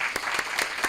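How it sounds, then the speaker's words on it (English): Brief applause for panelists at a digital launch event, with a few distinct sharp claps standing out over a light background of clapping. "let's give a big applause to our panelists"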